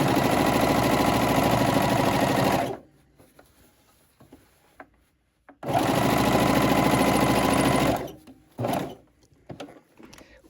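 A cover stitch machine stitching fabric for children's shorts runs in two steady, loud, close bursts of a few seconds each, separated by quiet handling and fabric-adjusting noises, with no talking.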